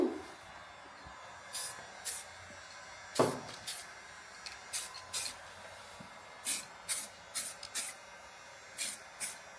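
A spray paint can hisses in short, quiet bursts inside a car engine bay, with a dozen or so brief sprays in an irregular rhythm, close by and faint, with no talking.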